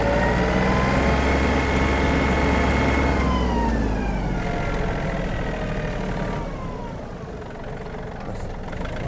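Yanmar RS-27 mini tractor diesel engine running close by in third gear, a loud steady drone whose pitch sweeps and shifts as it changes speed, easing slightly quieter toward the end with no talking.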